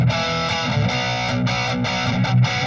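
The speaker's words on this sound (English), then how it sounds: "I have a rhythm sound which changes to the EVH 5150" Distorted electric guitar rhythm playing through an EVH 5150 amp with no reverb, a steady run of chugging chords, loud and close with no talking.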